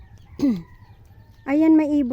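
Chickens cluck nearby, a short squawk followed by a burst of loud, repeated clucking calls.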